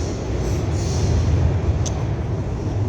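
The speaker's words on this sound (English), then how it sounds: "forget that train, I'll get on the next one" A train rumbles steadily past at close range, a continuous loud low roar of railcars and wheels with a brief high metallic squeal near the end, with no voices.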